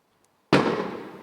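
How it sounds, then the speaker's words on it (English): A single big firework bursts loudly outdoors on bonfire night after near silence, its boom close and sharp, then rumbling and crackling as it decays. "There was a big firework."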